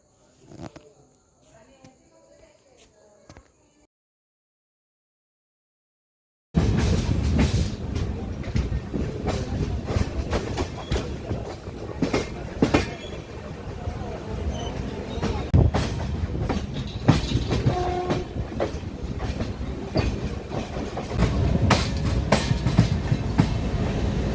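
A Diva passenger train runs on its rails with a steady, loud rumble and rhythmic clickety-clack heard from aboard, after a few quiet seconds with faint talk.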